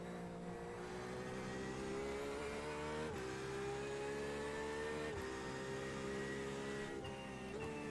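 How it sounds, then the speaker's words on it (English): Race car engines in the iRacing sim during a Road America 24 hour endurance race hold a steady, droning whine with slight pitch shifts, running continuously and fairly faint, with no voices. "Faster car coming up quick."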